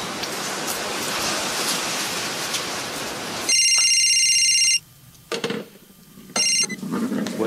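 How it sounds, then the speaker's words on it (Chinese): A telephone rings loudly and electronically in two bursts, a long ring followed by a shorter one after a pause, against a quiet indoor background. "大哥，您电话"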